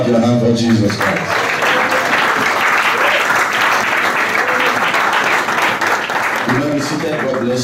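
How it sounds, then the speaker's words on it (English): A church congregation claps hands during a service, a loud, dense burst of applause between short stretches of a man's speech at the start and end. "Clap your hand for Jesus Christ."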